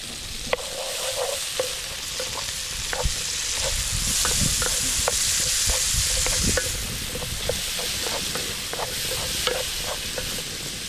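Onion sizzles and fries in a pan under a constant hiss while a utensil stirs it, tapping and scraping the pan in repeated close clicks.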